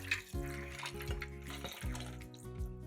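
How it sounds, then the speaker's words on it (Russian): Water running into a saucepan holding metal canning lids, a steady splashing flow with a tonal hum underneath, close and moderately loud with no one speaking. "Закаточные крышки кладем в сотейник и заливаем водой."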